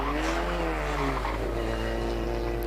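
Stock cars circling a regional race circuit after a first-lap incident, several engines revving loudly together with pitch sweeping up and down as they pass close by, continuous throughout.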